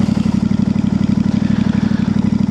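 A Royal Enfield Interceptor 650 motorcycle fitted with a new aftermarket exhaust idles steadily nearby, a deep, even, rapid thump pulsing without revving and with no one talking.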